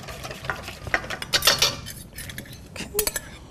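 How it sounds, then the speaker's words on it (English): Sweet potatoes being stirred into a custard mixture in a dish with a utensil, giving quiet, irregular clinks and scrapes close by. "A good stir."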